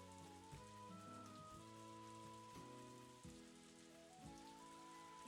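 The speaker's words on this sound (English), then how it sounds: "Let's go bring the moo cows inside. 'Cause it's raining." Soft steady rain in the video game Story of Seasons: A Wonderful Life patters over gentle sustained musical tones, a quiet continuous wash of drops with no voices.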